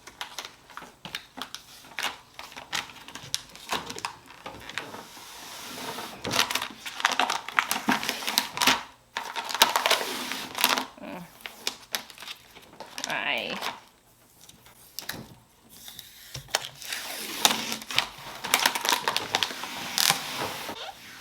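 Contact paper being peeled off a mid-century modern furniture piece: crackling, crinkling tears in uneven bursts with pauses, fairly quiet and close, with no talking.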